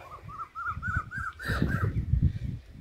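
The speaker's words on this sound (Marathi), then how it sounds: "पक्ष्यांचे वगैरे एकदम क्लिअर आवाज ऐकूक येतं" Birds call repeatedly outdoors in a village, a run of short rising chirps followed by fuller, lower cawing calls, moderately close with soft background noise.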